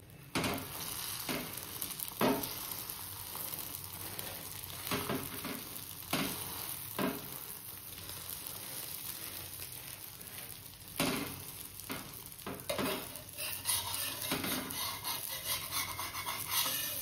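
An egg and a roti fry together in a pan, giving a steady sizzle broken by repeated scraping and rubbing as a spatula works the food. The sound holds even and close throughout, with no voices.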